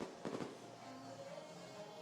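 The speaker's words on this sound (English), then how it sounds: "I'm just enthralled at the fireworks. There they go. The big finale here." Fireworks finale over a World Cup men's open final between Australia and New Zealand, heard as faint, distant bursts and crackles, with a stronger cluster of pops early on, under a wash of crowd and ambient noise.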